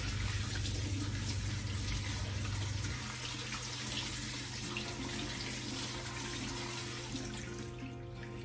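Tap water runs steadily into a kitchen sink while fresh spinach is washed for a smoothie, a loud continuous close rush with a low hum beneath that shifts in tone partway through.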